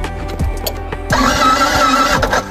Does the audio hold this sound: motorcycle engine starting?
yes